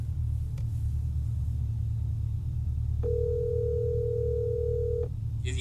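An outgoing telephone call's ringing tone plays once as a steady, moderately loud tone for about two seconds over a constant low rumble.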